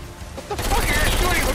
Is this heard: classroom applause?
no